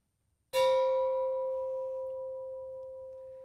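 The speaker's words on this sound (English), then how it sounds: "Now that's the sound of pure 304 stainless steel, real stainless steel" A single strike on a 304 stainless steel bucket rings out clearly, a bright bell-like tone that sustains and slowly fades over several seconds.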